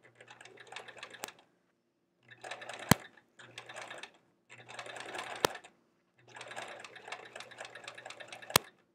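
Sewing machine top stitching a quilt block in four close, loud bursts of rapid mechanical stitching with short pauses between, a few sharp clicks marking the stops.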